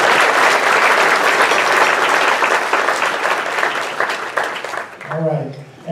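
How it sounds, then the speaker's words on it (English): An audience at a spring business lunch meeting claps for an award honoree, loud sustained applause that fades out over about five seconds, with a voice starting to speak as it ends. "we want to give him another round of applause"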